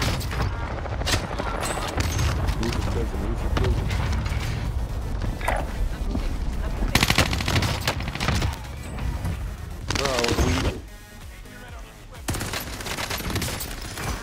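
Fennec submachine gun in Modern Warfare 2 gameplay, fast rattling bursts of automatic fire with mechanical clatter and impacts, loud and close, with gaps and other game sounds between bursts.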